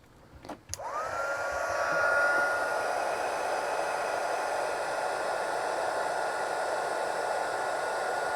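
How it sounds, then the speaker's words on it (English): A craft heat gun used for heat embossing clicks on and rises quickly into a loud, steady blowing roar with a whining tone. It holds constant close by, with no talking. "now I'm going to use my heat gun"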